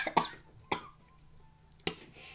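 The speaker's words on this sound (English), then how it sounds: "Why are you coughing?" Indoor coughing, three short sharp coughs spaced apart, close and fairly quiet, with near silence between them.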